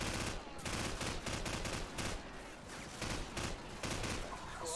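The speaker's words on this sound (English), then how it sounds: "It's a machine gun" Dense, rapid machine gun fire in Call of Duty 4: Modern Warfare, continuous bursts of loud gunshots with a fusillade texture running through the whole stretch, no voices.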